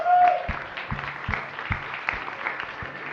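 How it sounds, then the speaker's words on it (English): Scattered hand claps from a small group at a coding bootcamp demo day in Lisbon, uneven and moderately loud, with a faint voice at the start and a steady murmur underneath. "So let's give them a round of applause."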